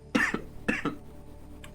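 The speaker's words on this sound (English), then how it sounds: "I just coughed in your face, didn't I?" Two sharp coughs from a man in close range, each a harsh burst with a short follow-up, then a faint trailing rasp with no speech.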